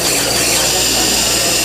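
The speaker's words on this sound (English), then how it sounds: "Now, no engine on the planet turns this low RPM, especially if it's just driven by a little amount of air." Small multi-cylinder engine driven by a little air, turning over at very low RPM, giving a steady mechanical whir with a faint high squeal, loud and close, no voices.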